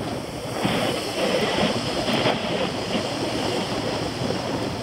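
A strong south wind buffets the microphone of someone cycling outdoors, a loud, steady, roaring rumble that never lets up.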